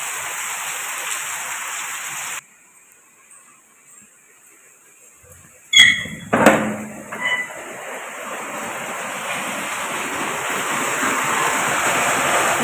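Heavy rain beside flowing floodwater, a loud steady roar of water that briefly cuts out, then returns with a few sharp knocks and builds again.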